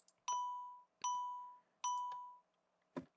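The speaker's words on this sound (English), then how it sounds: "You guys want to hear a new bell sound?" Three ringing bell tones from a Minecraft note block set on a gold block, evenly spaced and each decaying slowly, followed by a brief dull knock.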